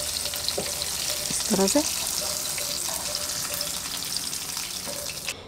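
Pieces of fried fish lifted from hot oil after the gas is turned off: a steady nearby sizzle with metal clinks of the utensil, and a brief voice speaking over it.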